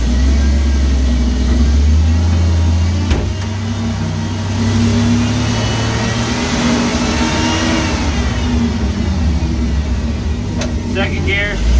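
A manual forklift engine held in first gear hums loud and steady with low rumbling tones and gentle revving swells, with a sharp knock near the middle and a brief rattle toward the end, mixed with background speech.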